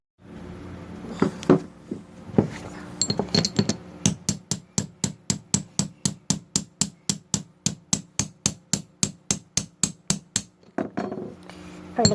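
Steady metal-on-metal hammer blows strike a large chisel while a front wheel bearing is driven out of a 2004 Mercedes C320 4Matic. A few scattered taps lead into roughly thirty sharp, evenly spaced strikes, loud and close, with no talking.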